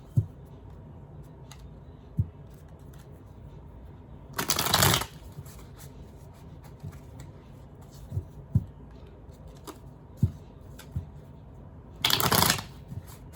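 Tarot cards are riffled in two brief, loud bursts several seconds apart, with quiet taps and handling noises and a low room hum in between.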